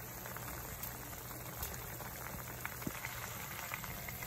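A steady, soft bubbling and hissing of sausages steaming in a pot, continuous and close, with faint pops over a low hum.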